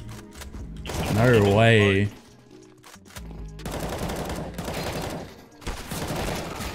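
Bursts of automatic AK rifle fire in a Counter-Strike: Global Offensive match, loud rapid rattling volleys that come and go with short gaps, mixed with a player's voice briefly reacting.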